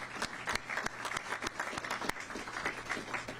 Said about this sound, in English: Y'all can clap for that one.